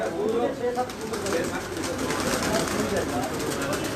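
Breeder pigeons kept in pairs cooing in a loft, low soft coos repeating beneath nearby talking voices and general background murmur.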